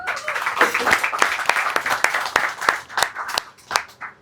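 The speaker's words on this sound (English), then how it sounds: "Round of applause." An audience at a service design portfolio critique night in Dubai claps to welcome a speaker, a fairly close burst of hand claps that starts dense and thins into scattered, sharper individual claps.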